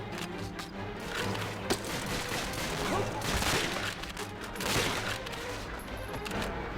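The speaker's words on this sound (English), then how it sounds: "Motherfuckers getting on the machine guns." Sustained machine gun fire and chaotic battle noise from Call of Duty Finest Hour, a dense, loud barrage of rapid shots and crashes running throughout with no talking.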